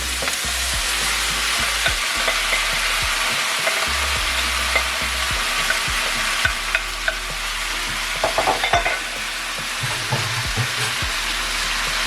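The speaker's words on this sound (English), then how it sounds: "And you stir." Chicken and shrimp chop suey with vegetables and mushroom sauce being stirred in a hot pan, a steady sizzle of frying under repeated scraping and clattering strokes of the utensil, close and continuous throughout.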